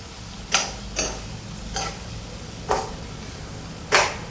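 Spoon scraping mint paste in a frying pan with five separate strokes at irregular intervals, each one a short bright scrape over a low, steady background hum.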